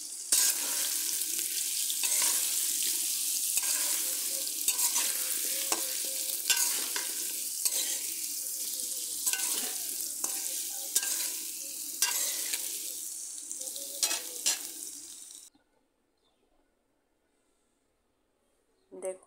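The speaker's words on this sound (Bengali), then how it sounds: "লবণ হলুদ দিয়ে আলুটা আমি ভেজে নেব।" Potatoes fry in oil with salt and turmeric for a soybean potato curry, a loud continuous sizzle with rhythmic stirring scrapes that stops abruptly near the end, leaving near silence.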